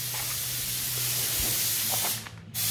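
Spray gun applying tintable Raptor liner paint as a first coat on a Land Rover Defender, a steady close hiss running almost unbroken and briefly dipping near the end.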